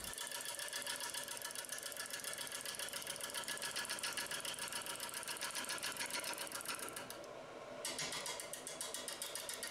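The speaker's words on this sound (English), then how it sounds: "I am turning a lot of air and little wood, which you can hear in the intermittent noise made by the cut." Wood lathe push cut with a gouge on a natural edge crotch bowl, a steady dense rattling chatter that dips briefly near the end, close and loud with no talk.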